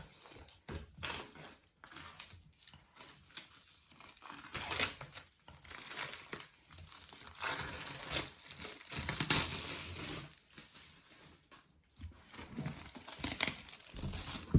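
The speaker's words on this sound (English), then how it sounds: "if we peel this tab here, it's so easy to open up" A MacBook Air M1 box is unsealed and opened by peeling its pull tab, giving a long stretch of close, quiet crinkling, tearing and crumpling of the packaging with brief pauses and no talk.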